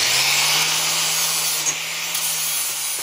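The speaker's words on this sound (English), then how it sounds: "I need to grind off just a little bit more right here just so I get I can make a good weld." Angle grinder working on a metal part before welding, close and steady: a continuous high-pitched abrasive whine with a constant motor hum underneath, running without pause.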